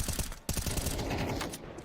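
Rapid rifle spray in Counter-Strike during a BLAST Premier match, a dense burst of fast repeated gunshots with mechanical clatter, loud and close, cutting off near the end.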